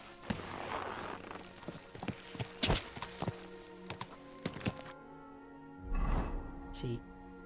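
Horse hooves clip-clop in Kingdom Come: Deliverance II, a run of uneven thuds for about five seconds that stops abruptly, then a brief louder thump and rustle. A voice talks throughout.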